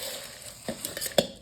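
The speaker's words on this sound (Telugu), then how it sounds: "ఇప్పుడు ఇలా ఒక గరిటె తీసుకొని మొత్తం ఇలా మిక్స్ చేసేసుకోవాలి" A ladle stirs a dry Nellore-style gottam snack mixture in a vessel, giving a few soft scraping and rustling strokes with one sharper metallic clink near the end, close and fairly quiet.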